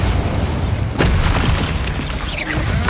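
The Bombarda spell explodes in Hogwarts Legacy, a string of loud booming blasts with a sharp burst near the middle, dense and continuous without any voices.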